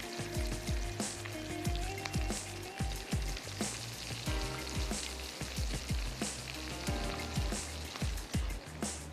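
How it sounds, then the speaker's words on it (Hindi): Samosas fry in hot oil with a steady, dense sizzle and crackle, with frequent sharp pops and bubbling bursts throughout, close and continuous without any talking. "ये जो हमारे समोसे बनने जा रहे हैं दोनों तरफ से अच्छे से फ्राई होते हैं"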